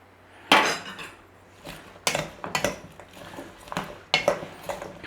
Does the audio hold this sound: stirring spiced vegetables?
yes